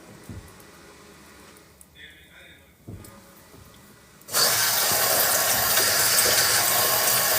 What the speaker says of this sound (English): Let me wash this knife.